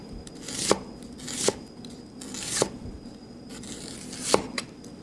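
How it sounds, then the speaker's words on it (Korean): A knife slices an onion diagonally on a cutting board in five or six crisp, separate chops spaced about a second apart, close and clear with no speech. "약간 요렇게 제가 비스듬하게 많이 썰어요."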